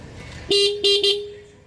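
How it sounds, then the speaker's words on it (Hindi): Three short electric horn blasts from a Bajaj Pulsar 150 motorcycle with a repaired blown fuse, close and loud, the second and third coming in quick succession after the first. "इसका हॉर्न वगैरह भी बराबर बजने लगा।"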